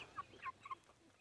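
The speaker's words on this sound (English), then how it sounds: "I'm being stalked by the chickens." Soft clucking from chickens nearby, a few short quiet calls in quick succession, then silence.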